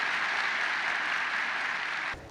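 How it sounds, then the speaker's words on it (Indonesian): Applause from a university campus audience in Serpong, a steady wash of many hands clapping at moderate level that stops abruptly near the end. "tepuk tangan sekali lagi untuk kita semua"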